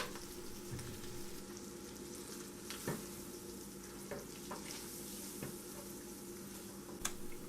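Butter, olive oil and flour being stirred together in a pan for a roux, a gentle continuous sizzle broken by occasional soft scrapes and taps of the spoon, close and quiet with no voices.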